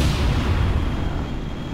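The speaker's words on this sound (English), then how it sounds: "That was a missile right there." A missile blowing up in Kerbal Space Program air combat: a dense, sustained low rumbling roar fills the whole moment at steady loudness, with no talking.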